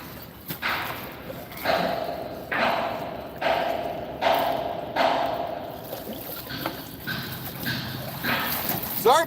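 Rhythmic hammering from construction work on a new football stadium nearby, about ten loud, evenly spaced thuds, each with a ringing tail, repeating over a steady outdoor background.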